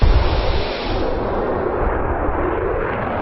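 An F-16 fighter jet on a U.S. Air Force training flight, heard from the cockpit, gives a loud, dense engine roar. The roar is harshest at the start, then settles into a steady rush.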